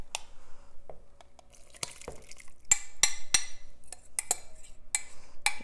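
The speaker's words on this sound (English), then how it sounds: "we're just going to stir until there's no dry flour" A spoon stirs butter into a flour mixture for biscuits in a bowl, giving scattered soft scrapes and sharp clinks against the bowl, close and irregular.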